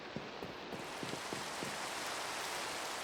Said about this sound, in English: No, it's just rain?